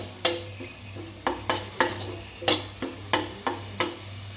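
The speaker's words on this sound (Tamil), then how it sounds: "கருவேப்பிலையும் இஞ்சி பூண்டு விழுதும் நல்லா வதங்கிருச்சு" Curry leaves and ginger-garlic paste sautéing in a pan for Chettinad chicken kuzhambu, with a soft steady sizzle under repeated sharp scraping strokes of a spoon against the pan, close and rhythmic.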